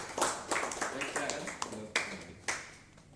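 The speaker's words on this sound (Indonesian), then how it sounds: "Aplaus untuk kelompok 1." Light, scattered clapping from a small group after a class presentation, a few distinct claps and short bursts, fairly faint and uneven.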